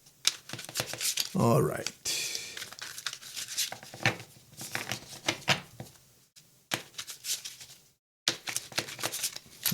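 Shuffling a brand new tarot card deck: quick riffling and flapping bursts of cards, close and crisp, repeated several times with short pauses, while a person speaks briefly over them.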